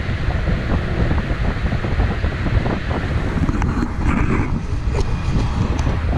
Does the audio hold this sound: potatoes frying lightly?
no